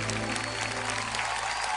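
A congregation applauds loudly at a live Christian worship concert, a dense, continuous wall of clapping with steady musical tones underneath.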